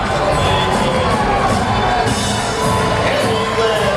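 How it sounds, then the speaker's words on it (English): A large crowd at Lazio headquarters on election night roars and cheers, a loud, dense wash of shouts, whoops and applause that goes on without a break. "a big roar went up in this crowd"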